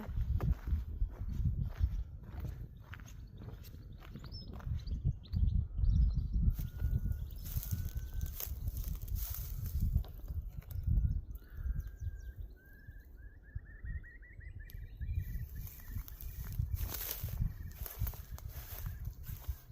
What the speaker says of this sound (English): That's a nice sound, that bird, wasn't it?